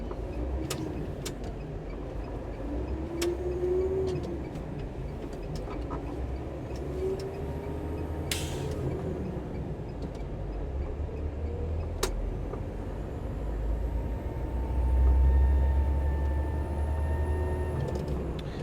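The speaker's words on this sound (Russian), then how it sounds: "Двигатель, конечно, шумноват." A Ural 35510 truck drives along an icy road, its engine giving a steady, noisy low rumble inside the cab, with occasional clicks and rattles and a louder surge near the end.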